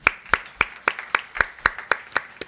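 A congregation at a Korean Sunday church service claps after a hymn, sharp claps in unison at a steady, even beat, about four per second, with no talking.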